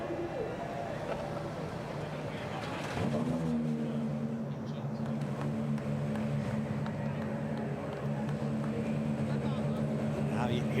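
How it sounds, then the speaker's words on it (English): GT America race car engines fire up together on the Nashville street circuit, a faint rumble swelling into a sustained layered drone of idling motors, heard under a commentator's voice. "Driver, start your engines."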